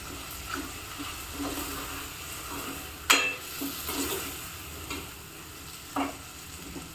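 Vegetables, green sundakkai for a tamarind curry, sautéing in a pan with a steady low sizzle and occasional stirring scrapes, one sharper clatter partway through.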